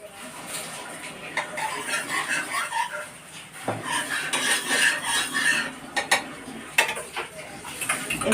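Egg being beaten with a little oil in a bowl for a shop-style egg roll, a busy run of clinking utensil scrapes and taps against the dish, fairly close and moderately loud, with a few sharper knocks.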